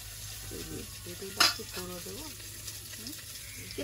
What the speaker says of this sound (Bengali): মাছগুলো ভাজা হয়েছে, তুলে নেব